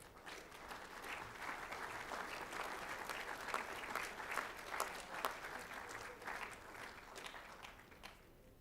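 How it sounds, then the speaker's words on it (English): Applause from the crowd at a college assembly for the athletes, a steady wash of clapping with scattered sharper claps, heard faint and a little distant for about eight seconds. "Please give a round of applause for our 10 years athletes"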